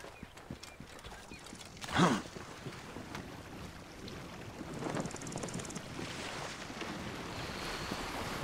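Boat moving across water in Assassin's Creed Origins, with soft waves and wind washing steadily under the scene and a brief louder splash-like burst near the start, no talking.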